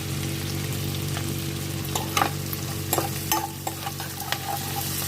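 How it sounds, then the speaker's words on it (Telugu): Dried prawns fry in a pan with a steady, close sizzle, while a spatula stirs and scrapes against the metal, giving several sharp clinks and no voices. "ఇప్పుడు ఎండ్రాయిలను వేసేసుకుందాము. ఇవి బాగా వేగిపోవాలి."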